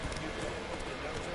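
Hooves of the horse Roach clip-clop rapidly in The Witcher 3, a short burst of quick galloping beats with a voice speaking over it.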